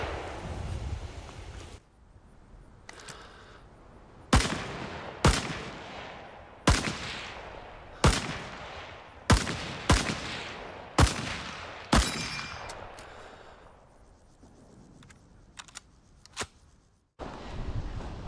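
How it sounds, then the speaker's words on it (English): Single shots from an M1 carbine rifle crack out at an outdoor shooting range, about ten sharp reports spaced one to two seconds apart, each with a short echoing tail, followed by a few fainter pops near the end. "we were able to get an M1 carbine out to the range"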